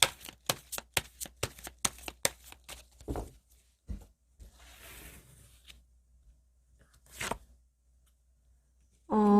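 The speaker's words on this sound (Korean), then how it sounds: "그러면 두 분 조언 카드 뽑아보고 마무리하도록 할게요." Tarot cards are shuffled in a fast run of crisp riffling slaps, then drawn with softer slides and a few taps, close and fairly quiet, with no voice.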